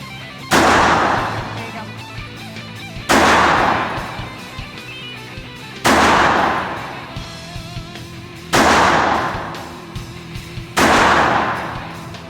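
Five sharp handgun shots ring out at an outdoor shooting range, evenly spaced about two and a half seconds apart, each with a loud crack and a long echoing tail.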